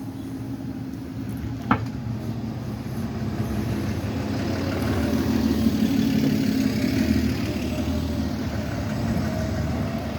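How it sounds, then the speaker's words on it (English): A city bus engine rumbles low and steady as it edges along a street with missing curb and heavy equipment in the road, growing slightly louder midway, with a single sharp knock early on. "Bus is trying to navigate."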